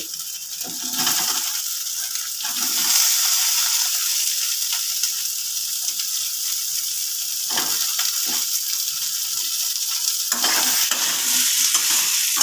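Eggplant and potato fry in spiced oil for a Bengali pui shak chhechra with fish head, with a steady sizzle and repeated scrapes and stirs of a spatula in the pan throughout.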